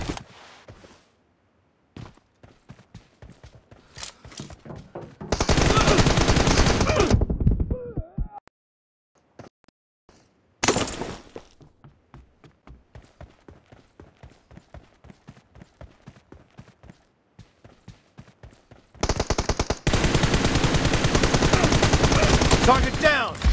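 Automatic M416 rifle fire in a video game, with long loud full-auto bursts alternating with stretches of rapid, clipped footsteps and single shots, close and punchy.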